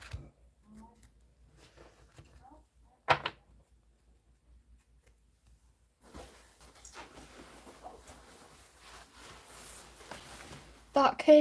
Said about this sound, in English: Let's have a few shuffles.